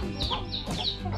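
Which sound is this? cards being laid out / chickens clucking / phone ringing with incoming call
chickens clucking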